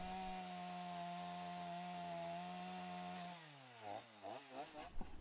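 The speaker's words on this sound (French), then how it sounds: "Avec la tronçonneuse, il peut commencer à ouvrir le siège en le coupant dans le sens de la longueur." A sculptor's chainsaw cuts lengthwise into a block of wood with a steady buzzing whine, then the engine drops in pitch and revs up and down in short bursts near the end.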